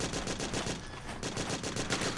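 Rapid automatic gunfire laying down suppressing fire in Metal Gear Solid 4, a fast steady stream of bursts close and continuous with a short lull near the middle.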